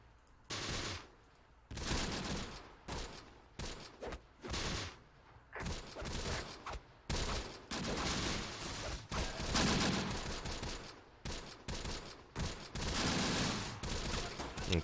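Machine gun fire in Close Combat: The Bloody First rattles in repeated sharp bursts of varying length, separated by short quiet gaps, moderately loud across the whole stretch.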